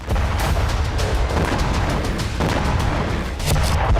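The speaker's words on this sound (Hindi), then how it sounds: "जहां पावर प्लांट के पास हूती की बैलिस्टिक मिसाइल गिरी, जिसके बाद जोरदार धमाका देखा गया।" A Houthi ballistic missile explodes near a power plant in Ashkelon, heard as a loud, sustained roaring rumble with heavy bursts and crackling blasts throughout four seconds.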